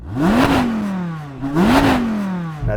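The standard exhaust of an Audi R8 GT V10 revs up twice, rising and then falling back, a loud, steady exhaust note close by.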